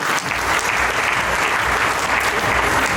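A crowd at a celebratory function for a fighters' team in Agra gives loud, sustained applause, a dense and steady wash of clapping from many hands that lasts the whole moment.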